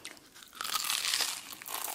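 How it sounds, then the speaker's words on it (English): Crisp crunching as someone bites into a piece of apple pie during a fast-food meal, a close, dense crackle lasting about a second and a half with softer chewing around it. "That crunch."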